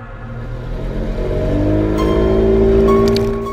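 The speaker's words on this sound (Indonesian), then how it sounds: "perahu motor pun meluncur kencang menyusuri sungai kecil menuju muara" A motorboat engine drones steadily and builds in pitch as it speeds up along a small river, loud and close, with no voices.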